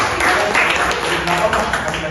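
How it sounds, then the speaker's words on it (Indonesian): Students in a classroom clap together in a loud, close burst of dense applause, with voices mixed in over the clapping. "Beri tepuk tangan dulu dong."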